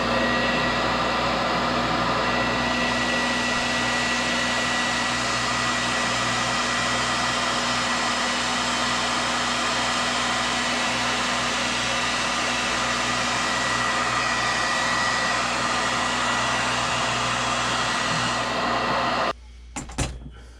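A heat gun blows continuously for nearly twenty seconds with a loud, even whirring roar and a steady hum as it heat-sets paint on a square bill fishing lure, then switches off abruptly with a short clatter.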